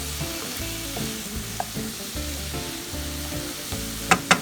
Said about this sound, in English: So as it's sauteing, I'm going to add this to it guys, because I'm making a stuffing.